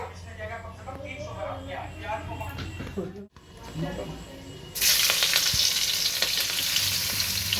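Onions drop into hot oil in a pan for Bihari bhuna chicken, breaking into a loud, close, continuous sizzle. Before that, people talk over quieter pan and stirring noises.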